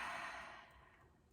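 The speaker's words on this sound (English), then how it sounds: "Take a deep breath in and let it go." One slow, deep breath exhaled in a long soft sigh that fades away, close and alone in a quiet room during a guided relaxation exercise.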